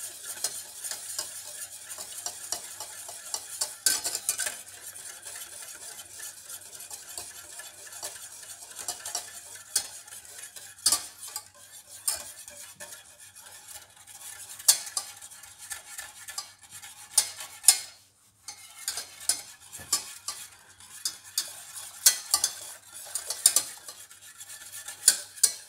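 Steady stirring of a dessert mixture in a pan on a stove, a close, continuous scraping with small clicks of a utensil against the pan and a faint sizzle underneath, pausing briefly near the end.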